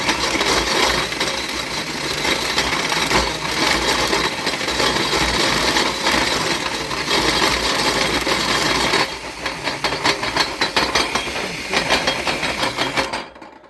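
A walnut crusher grinds walnuts with a continuous loud rattling, crunching roar, turning choppier and more irregular toward the end before stopping abruptly.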